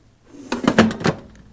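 The drawer of an air fryer with chicken inside slides shut. It makes a short series of close plastic clacks and rattles, with no one speaking.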